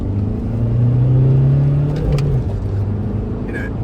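A VW Touran seven-seater accelerates hard along a straight, its engine droning up in a steady rising hum with road rumble, heard from inside the cabin, followed by a couple of faint clicks.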